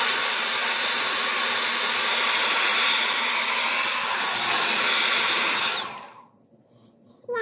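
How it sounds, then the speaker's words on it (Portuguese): A hair dryer blows steadily and loudly at close range while hair is pulled upward during a blow-dry, running continuously for about six seconds before cutting off into near silence. "Então eu vou secar ela assim, puxando pra cima."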